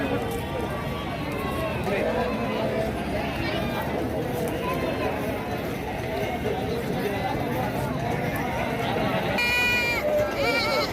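Male goats bleat repeatedly amid a busy market crowd, their calls mixed with constant chatter and bustle.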